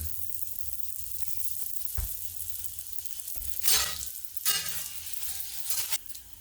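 Skillet flatbread sizzles in a hot pan with a steady crackle, then two sharper hissing bursts follow as the bread is flipped and set back down, close by with no talking.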